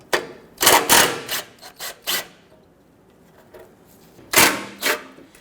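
Hand tools working the 13 mm bolts on the skid plate of a 2006-2010 Hummer H3 3.7L produce several close, brief rasping and scraping bursts, each separated by short quiet gaps.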